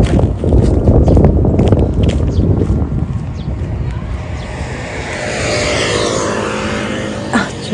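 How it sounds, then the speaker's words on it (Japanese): An airplane roars low overhead while coming in to land over a street in Harada, Higashi-ku, Fukuoka, a loud broad rumble that swells and then fades into a thinner whine, with light street noise around it. "ちょうど飛行機が"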